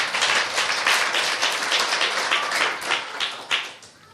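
A church congregation at an evening revival conference gives a clap offering: a crowd clapping loudly and continuously, dense and close, tapering off at the very end.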